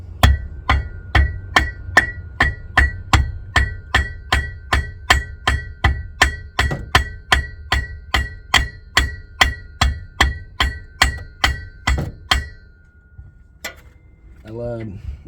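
A transfer case is tapped into place on a 2017 Cadillac XT5: a long run of evenly spaced, sharp metallic hammer taps close by, about two per second, ending in a brief pause and a faint squeak.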